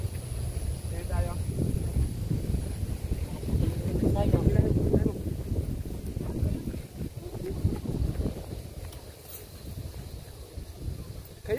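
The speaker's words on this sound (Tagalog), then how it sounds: "Kaya rin kaya ng saranggola ni Leo ang malakas na hangin" Strong typhoon wind roars and buffets the microphone in loud low gusts, with voices talking intermittently underneath.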